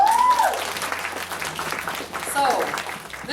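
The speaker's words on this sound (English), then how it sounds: "So, round of applause." An audience at a KCon LA fan panel claps in a steady, moderately loud ripple that tapers slightly toward the end, with voices and crowd murmur mixed through.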